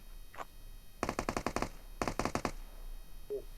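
Gunfire from PUBG Mobile: two rapid bursts of automatic fire, each a tight string of sharp, close shots, separated by a short pause and heard alone.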